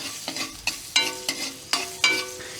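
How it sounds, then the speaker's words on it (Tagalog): Ginger sautés in hot oil left from frying pompano, with a soft sizzle punctuated by rhythmic scraping stirs of a utensil, about six strokes in quick succession. "gisa na po tayo mga paps unahin po natin si luya"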